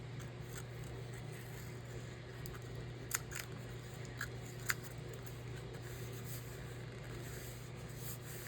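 Scissors trimming paper in a quiet room, faint scraping and rubbing with a few soft, distinct snips spaced apart.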